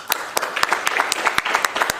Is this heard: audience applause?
yes